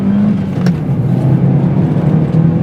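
A Smart Forfour Brabus engine runs steadily and loudly throughout, a continuous close car engine drone with slight shifts in pitch rather than sharp revs, with no talking.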